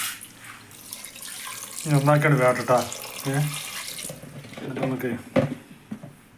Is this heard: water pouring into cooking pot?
yes